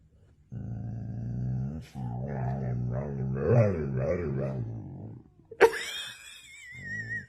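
A dog growls and grumbles in long, drawn-out, voice-like bursts, close and loud, with a sudden sharp high yelp near the end before a final low rumble.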